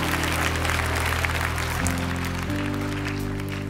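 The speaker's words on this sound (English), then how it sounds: "Somebody give yourselves a round of applause" A congregation at a Christian church production applauds, a broad wash of clapping under sustained low organ or keyboard chords.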